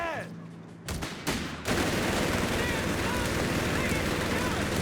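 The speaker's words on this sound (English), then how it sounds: "Then open fire! Fire back!" Dense, continuous gunfire from a Company of Heroes 3 match, Wehrmacht grenadiers against US Forces, with a few sharp bursts and then a sustained, loud fusillade.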